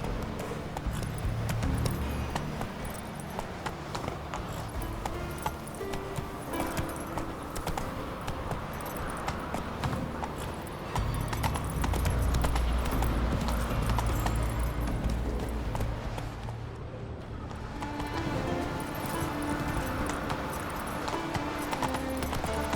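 Horse hooves clop rhythmically at a gallop in The Witcher 3 on PS5, running continuously under a layer of game music and ambience, moderately loud with occasional jangling tack.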